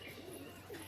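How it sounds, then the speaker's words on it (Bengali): Pigeons in a loft coo softly, a low, brief murmuring close by with no voices. "এই যে হলো লফট, উপরের থেকে লাভ যে দেখো বালি পায়রা"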